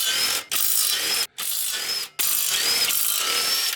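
Ratchet wrench loosening automatic flywheel bolts on a JZX100 Chaser with a 1JZ engine during a manual conversion, giving loud, close rapid clicking in three sustained runs separated by short pauses.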